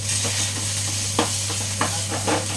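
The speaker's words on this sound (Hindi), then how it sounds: "और बाकी मसाले जो हैं कसूरी मेथी, कड़ी पत्ता, अदरक और काली मिर्च, ये सब डाल के हम करेंगे इसको फ्राई।" Spices with kasuri methi, curry leaves and ginger frying for Punjabi kadhi pakora, a dense close sizzle over a low steady hum, with a few brief scraping stirs.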